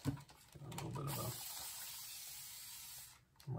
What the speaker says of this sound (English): a moisture spray there